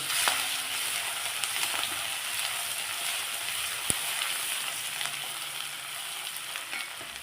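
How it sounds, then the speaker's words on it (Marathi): Spiced masala with a pinch of asafoetida sautéing in hot oil for Maharashtrian stuffed brinjal, a steady broadband sizzle close by with faint scraping stirs and one sharp tap, no talking. "मगाचा हा जो मसाला उरला होता ना तो मसाला घालून थोडा परतून घ्यायचं"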